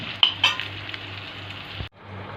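Sausage frying in a pan with onions just added gives a steady close sizzle, with a few clinks of a utensil against the pan near the start.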